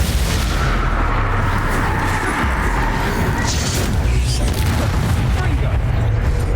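Loud Bombarda spell explosions in Hogwarts Legacy on Nintendo Switch, a dense, booming roar of blasts and crumbling debris that stays heavy throughout, with a brighter burst partway through.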